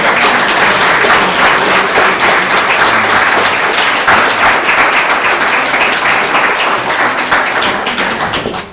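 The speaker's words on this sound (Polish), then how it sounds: "To ogromne brawa i zapraszam do tutaj" Loud, dense applause fills a karting season awards ceremony as the runners-up in a young drivers' category are called forward, a sustained crowd clapping with no letup that fades slightly at the very end.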